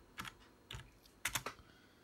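Typing on a computer keyboard for a modern rebuild of the 1978 ETI Triton computer: a few quiet, close key clicks in small clusters with short pauses between them.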